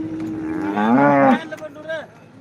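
A farmer's cow at a cattle market gives one long, loud, close moo that swells and then breaks off, followed by a shorter, fainter second call.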